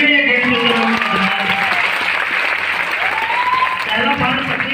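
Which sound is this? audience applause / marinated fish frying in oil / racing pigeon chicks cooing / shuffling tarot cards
audience applause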